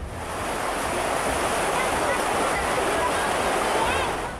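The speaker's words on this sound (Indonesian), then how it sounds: "Jebolnya tanggul Sungai Tuntang membuat air mengalir deras, membanjiri persawahan dan permukiman warga." Floodwater rushes hard through a burst dike on the Tuntang River, a steady, loud roar of turbulent water washing toward rice fields and homes, constant for the whole stretch with no talk.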